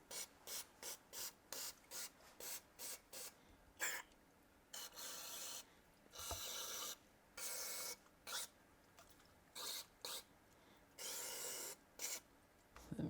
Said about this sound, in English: spray down the majority of this one, and of course let the carburetor cleaner